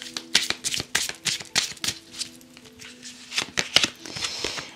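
Playing cards are shuffled for a tarot-style reading, giving quick bursts of crisp riffling and snapping flicks that repeat irregularly through the clip, close and fairly loud, with no one speaking.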